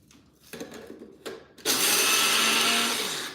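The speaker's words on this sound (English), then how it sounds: "Like, it's kind of like a bullet, and just mix them up." A couple of brief clicks and rattles, then a small bullet blender mixing puppy food roars to life and whirs steadily, loud and close.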